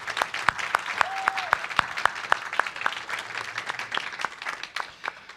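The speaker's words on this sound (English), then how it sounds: "another round of applause" Applause from a festival audience at a Q&A session: sparse, individual hand claps ring out in an uneven rhythm for several seconds, moderately loud in a hall, with no one speaking.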